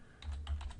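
Fingers tap out a short burst of keystrokes on a computer keyboard, quick close clicks in a brief run of about half a dozen presses, heard with no speech.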